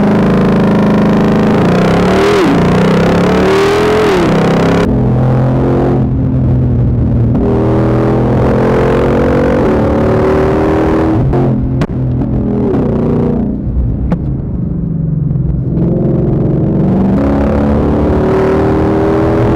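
A 2020 Ford Mustang Shelby GT500 engine revving hard while driving, a loud deep roar that rises and falls through repeated throttle blips and gear changes, close and continuous with no talk.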